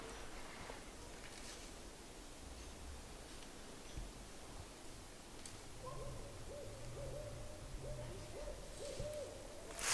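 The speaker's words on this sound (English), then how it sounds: "The little owl on the mountain." An owl hoots faintly from a distance up on a mountainside, a few soft repeated calls under steady outdoor hiss and rustling.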